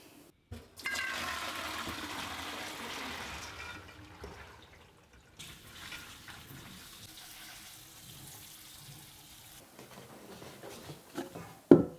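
Cooked beans being strained and rinsed under running tap water before canning, a steady splashing rush that starts and stops a few times, ending with a sharp clatter.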